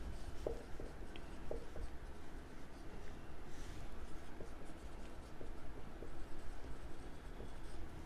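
Pen writing on paper while working an accounting problem, a faint continuous scratching with occasional light taps, close to the microphone and without talk.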